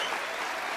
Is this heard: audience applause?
yes